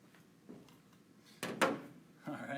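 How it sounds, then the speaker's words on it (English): A museum specimen drawer of mammal skins slides and bumps as it is moved, giving a couple of quiet scraping knocks midway and another rumble near the end, close by with no talk. "let me move this drawer here"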